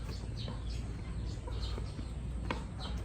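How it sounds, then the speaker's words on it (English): Chickens and chicks cluck and cheep softly amid a farmyard background, with scattered short calls that stay fairly faint over steady low ambient noise. "More chicks down here."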